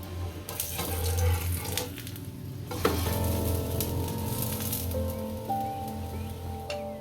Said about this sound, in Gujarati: આને આપણે એક બાજુ તળાઈ ગયું છે, આને ફેરવી નાખશું